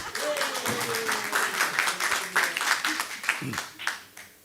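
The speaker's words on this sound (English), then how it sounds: "a round of applause for Saad." An audience claps at a business talk, a round of applause building and fading over several seconds, with a voice speaking through it.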